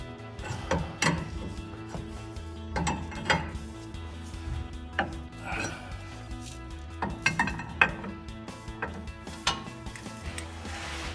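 Metal wrench clinks and ratcheting clanks as big jam nuts are tightened on adjustable upper and lower control arms of a Jeep Wrangler TJ, a series of close, irregular metallic knocks and scrapes with no talk.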